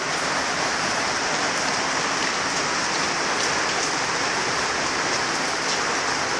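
Hail pours down steadily in Piraeus, a dense, even hiss of pellets striking surfaces, loud and continuous without pause.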